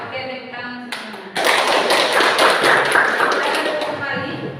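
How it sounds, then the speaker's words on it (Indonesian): A school class claps together in a burst of dense, loud applause that starts suddenly and slowly fades, following a short spoken stretch. "Oke, tepuk tangan semua."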